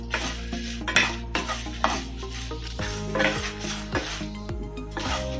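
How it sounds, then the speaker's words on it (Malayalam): Red chilies fry in oil on low heat for coconut chutney, with a spoon stirring and scraping against the pan in irregular clanks over a soft background sizzle, heard close up with no talk. "തീ നന്നായിട്ട് കുറച്ച് വെച്ചിട്ട് വേണം മുളക് വറക്കാനായിട്ട്"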